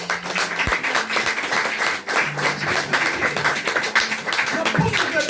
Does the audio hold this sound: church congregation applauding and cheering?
yes